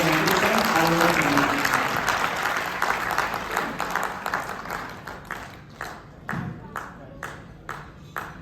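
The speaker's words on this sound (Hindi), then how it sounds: "एक बार आप तालियां बजाकर" Audience applause at a Hindi-language award event, a dense burst of clapping that gradually thins into separate, sharper claps toward the end, loud and close, with no talk over it.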